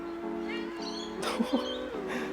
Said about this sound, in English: That meow.